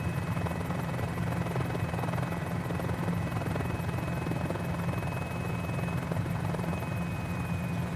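A helicopter in Microsoft Flight Simulator hovers and slows toward a New York City helipad, its steady rotor and turbine drone loud and continuous for the whole stretch, with no talking over it.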